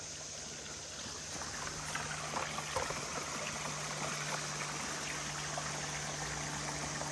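Water flows and trickles steadily toward a nearby creek, a continuous outdoor rush with a low constant hum underneath and no voices.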